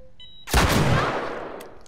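A single loud, close gunshot from The Last of Us cracks sharply, then its echo fades slowly over a quiet game background.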